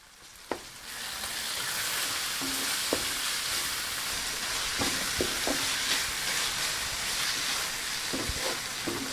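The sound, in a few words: garlic ginger paste with turmeric and salt frying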